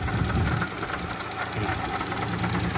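Idling engine of a 1997 Daewoo Tico 0.8 with manual gearbox, a steady close mechanical chatter with fine knocking rhythm, running alone without talk.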